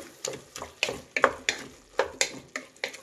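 A spoon stirring thick curd into frying aloo peas rice bath in a pan, about a dozen rhythmic scraping strokes close by over a faint sizzle.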